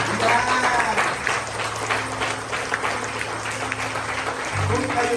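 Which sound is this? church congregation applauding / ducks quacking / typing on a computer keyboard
church congregation applauding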